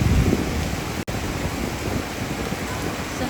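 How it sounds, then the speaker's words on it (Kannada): Heavy rain pouring down outdoors, a dense, steady rushing roar with strong low rumble, as if wind-blown against the microphone, with one brief dropout early on. "ಜೋರು ಮಳೆ ಬರ್ತಾ ಇದೆ"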